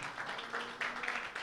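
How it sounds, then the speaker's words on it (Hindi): A church congregation claps together, a soft, diffuse wash of many hands at a moderate distance, with a faint sustained tone running beneath the clapping. "यीशु मसीह के लिए तालियां बजाएं"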